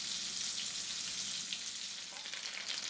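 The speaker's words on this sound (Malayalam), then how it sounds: "ഒരു 2 ക്യൂബ് ബട്ടർ ഇട്ട് കൊടുക്കാം. ഇനി ഒന്ന് മെൽറ്റ് ആവട്ടെ ബട്ടർ." Two cubes of butter melting in a hot pan, giving a steady, close, bright sizzle and crackle with no pauses.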